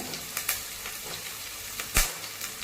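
Garlic and onions sautéing in oil for oil brinjal kuzhambu, a faint, low sizzle with a few short scrapes or taps of stirring, one of them louder near the end.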